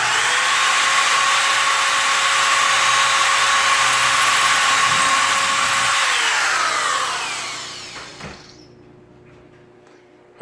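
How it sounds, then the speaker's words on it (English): Power drill boring a hole for a kitchen cabinet knob, a loud steady whine for about seven seconds that then winds down and stops, with no talking. "pull it out some so the shavings will fall down onto the towel"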